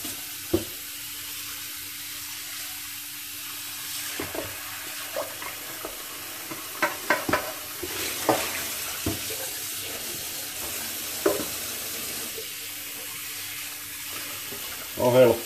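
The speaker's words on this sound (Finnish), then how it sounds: "No helppoja putsata nää nykyajan pannut kyllä, ei tarvit kuin vähän paperia ja pelkkää vettä." Hot water from a kitchen tap runs over a hot modern frying pan being rinsed clean in a sink, with intermittent splashes, clatters and sizzling bursts under a steady faint hum; a voice speaks occasionally.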